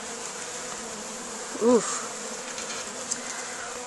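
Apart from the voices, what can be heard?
honeybees buzzing around an opened beehive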